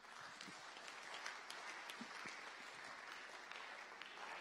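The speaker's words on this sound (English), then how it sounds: "let's just give him a warm round of applause" An audience at an evening church talk gives a warm round of applause to welcome the chair, a soft, continuous patter of many hands heard from a distance.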